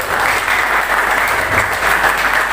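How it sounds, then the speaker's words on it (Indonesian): An audience at a youth discussion gathering in Lampung, Indonesia, gives a loud, sustained round of applause, a thick, even roar of clapping with no talking over it. "kita beri tepuk tangan sekali lagi ya"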